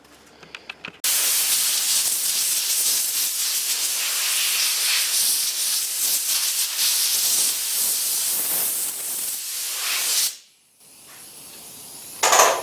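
Compressed air blasts steadily across the back of a weathered wooden name sign for about nine seconds, loud and hissy, then cuts off abruptly, with a brief short burst after a pause.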